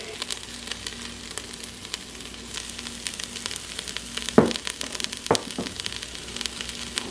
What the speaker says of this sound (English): Now that the rice is toasted, stir in your black beans